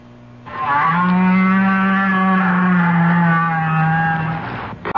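A whale call that rises into a long, loud tonal moan with rich stacked harmonics, sustained for about four seconds and sounding much like a cow mooing, heard alone without talk.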